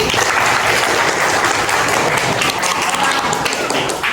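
Dense, sustained applause from a large audience at an indoor gathering, steady and loud throughout with no break, a broad wash of many hands clapping together.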